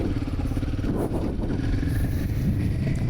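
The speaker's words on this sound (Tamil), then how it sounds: "ஹைவேஸை நோக்கி போயிட்டுருக்கேன். வண்டி செம்ம ஸ்மூத்தாக இருக்குங்க." A Royal Enfield Himalayan 450 motorcycle ridden on the way to the highway, with a steady loud engine drone and wind rush that stays constant throughout the ride.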